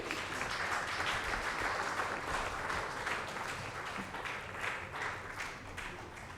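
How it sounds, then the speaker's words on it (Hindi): An audience at the NTA Awards 2024 ceremony applauds a guest coming on stage, sustained, even clapping from a crowd that carries on and eases slightly toward the end. "तालियां नहीं रुकनी चाहिए"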